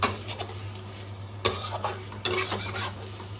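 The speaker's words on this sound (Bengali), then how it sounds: "আমি ভেজে রাখা মাথা নাড়াচাড়া করে নেব" Fried fish heads, likely hilsa, being turned in a frying pan: a quiet continuous sizzle broken by a few sharp clinks and scrapes of a spatula against the pan.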